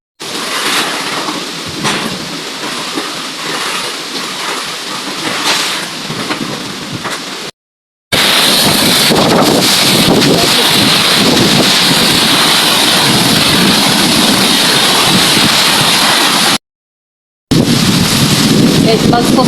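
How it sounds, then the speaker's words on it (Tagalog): Strong typhoon wind roaring against the microphone with intermittent rain in Bicol, a loud continuous gusting rush broken by short gaps. "Malakas pa rin yung hangin. Tsaka may pabukso-bukso na ulan."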